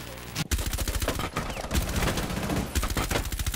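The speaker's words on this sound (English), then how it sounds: "I fucking shot you 50 times in your fucking head" Rapid automatic gunfire in Rainbow Six Siege, loud close bursts of sharp shots rattling in quick strings, broken by brief gaps, with no speech over them.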